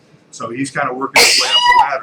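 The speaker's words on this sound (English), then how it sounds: "Have you ever heard a sneeze like that?" Someone speaks briefly, then a sudden, loud sneeze bursts out close by during a live training session and trails off into a voiced, drawn-out tail.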